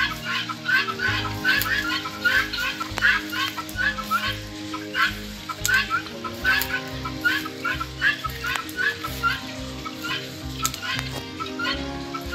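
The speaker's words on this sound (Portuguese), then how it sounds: "a galinha de Angola ela tem origem na África Central" Helmeted guinea fowl, a bird originating in Central Africa, call with loud, rhythmic repeated cries in a steady series over a busy flock background.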